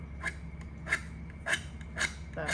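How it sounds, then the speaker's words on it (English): A hand file rasps a burr off a metal edge in four or five short, separate strokes, close and fairly quiet, alone without talking. "I'm just going to use the file."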